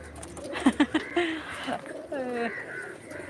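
A male pigeon coos softly in a few short throaty bursts, then longer rolling calls, close by, with a person talking quietly in the background.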